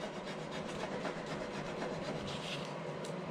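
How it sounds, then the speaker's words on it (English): A rub-on transfer is rubbed down by hand, producing a soft, continuous scratchy friction that stays quiet and close for the whole stretch. "If it doesn't come off easily, it means it needs a little more rubbing."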